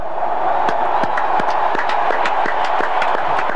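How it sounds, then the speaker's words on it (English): Crowd at a Notre Dame Fighting Irish football stadium before kickoff, a steady broad roar of many voices with scattered sharp claps and shouts, loud and continuous. "The faithful are ready to cheer another Irish victory."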